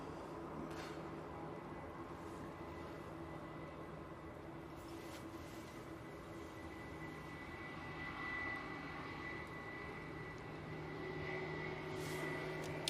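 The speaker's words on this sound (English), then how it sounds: "EasyJet's arriving." An EasyJet airliner arriving at Manchester Airport, its engines a faint, distant steady drone with tonal whine, slowly swelling toward the end.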